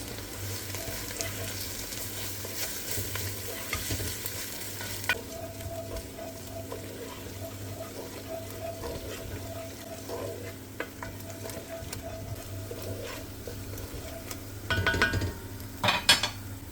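Steady sizzling and frying as pepper and tomato paste with red pepper powder and black pepper are sautéed in a pan, a stirring scrape throughout, ending in a few sharp clinks of a utensil against cookware.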